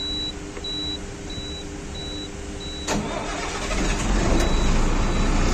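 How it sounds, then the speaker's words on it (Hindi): A truck's engine turns over and catches after the driver presses the clutch and turns the key, rising into a steady idle rumble, while a repeated electronic warning beep pulses in the cab beforehand. "देखिए गाड़ी चालू हो गई है।"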